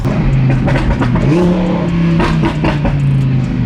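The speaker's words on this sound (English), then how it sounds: "So it's not excessive burbles, it's just a little bit of crackle and pops." A loud twin-turbo Audi R8 engine idles and revs with rapid sharp crackles and pops from the exhaust, close by and continuous.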